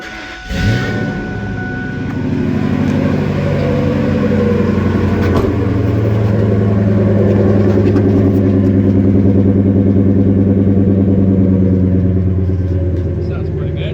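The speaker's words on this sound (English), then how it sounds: "Just gonna do the first start here." Triton V10 engine in a dump truck with a custom exhaust starting up, cranking briefly then settling into a loud, steady, deep idle rumble that runs throughout, with voices talking faintly over it.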